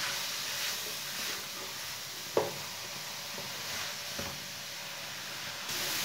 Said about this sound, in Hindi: अब इसे ऐसे ही चम्मच चलाते हुए 4-5 मिनट तक भून लेंगे। इसे मीडियम आंच पर भूनना।